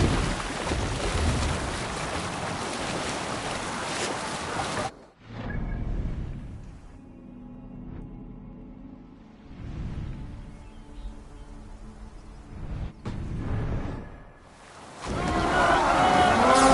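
A Viking longship in Assassin's Creed Valhalla sails across waves, with loud rushing water and wind that drops out briefly, then returns in surges of splashing surf over quieter stretches.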